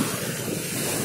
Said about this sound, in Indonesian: Ini namanya lokasinya wisata pantai Eretan.